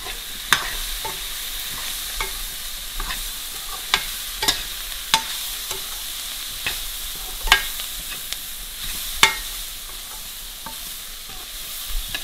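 Whole spices and onions frying in a pan give a quiet, steady sizzle with regular sharp clicks and scrapes of a spoon stirring against the metal, close and without voices.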